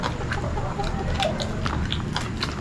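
Crunchy bites into crispy deep-fried pork face, maskara ng baboy, giving several close, sharp crackling crunches in quick succession with no talk over them.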